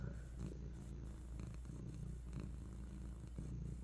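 A cat purrs softly and steadily up close, a low continuous rumble with a gentle rhythmic pulse and no voices over it.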